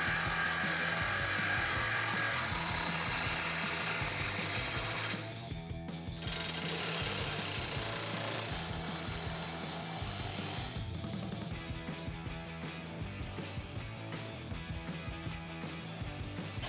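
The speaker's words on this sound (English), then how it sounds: "So a Sawzall or something similar will do the trick." A reciprocating saw cuts through the factory exhaust pipe of a 1999-2004 Mustang GT, a continuous close buzzing with a steady rasping rhythm and a brief pause partway through.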